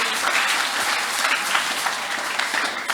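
A church congregation applauds during a service, with steady, dense clapping that stays loud and even from start to finish.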